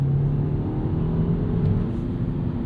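A 2025 Mini Cooper JCW turbo hot hatch pulls hard in its boost mode, heard from inside as a strong, low engine drone that rises steadily in pitch under acceleration, continuous and fairly loud.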